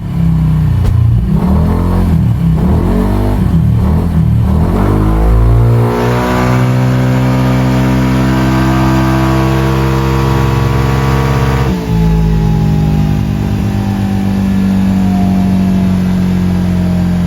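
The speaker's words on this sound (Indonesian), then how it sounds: "kita lakukan proses remap dyno terlebih dahulu untuk kita lihat powernya" A Yamaha Mio M3 scooter engine revs hard on a dyno during a remap run, its pitch climbing in repeated rising sweeps and then holding a loud, sustained high-revving drone with no talk.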